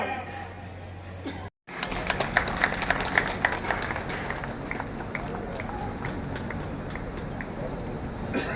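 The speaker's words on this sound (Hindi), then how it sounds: "तो इस हौसला अफजाई के लिए जोरदार ताली बजाइए और उनका अभिनंदन कीजिए।" A crowd at a large national Kshatriya assembly in Jaipur breaks into loud, sustained clapping after a brief cut, the dense applause filling the hall and continuing steadily to the end.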